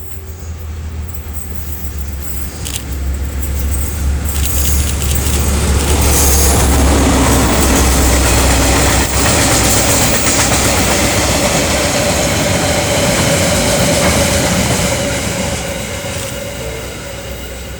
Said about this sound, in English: Followed by DL 9170 passing Huntley Station with train 138 to Mission Bush.